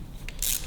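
A single sharp metallic crack of a ratchet breaking an engine bolt loose on a Kawasaki KH750, followed by a brief ratcheting rasp, close and fairly loud in a quiet space.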